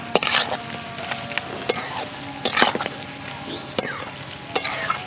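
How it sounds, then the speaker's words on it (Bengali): Spices are stirred into bhetki fish bone curry as it fries in a pan. Repeated spatula scrapes and knocks sound close over a steady sizzle. "সবার শেষে কুড়িয়ে রাখা মশলাটা আমি দিয়ে দেব দিয়ে ভালো করে নেড়ে নেব"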